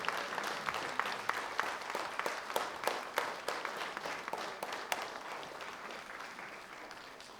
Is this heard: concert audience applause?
yes